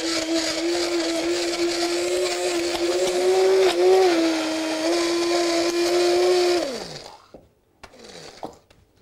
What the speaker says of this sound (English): all the ingredients go in together, and then we're just going to blend them to form a batter